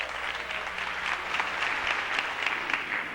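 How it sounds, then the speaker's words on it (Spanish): A church congregation applauds during a Spanish-language sermon, giving a dense, steady wash of clapping that fills the whole stretch at moderate volume with no break. "Denle un aplauso al Señor."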